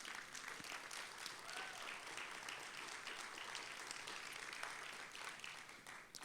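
A church congregation applauds continuously for Jesus, a faint but dense wash of many hands clapping that holds steady throughout, heard from a distance.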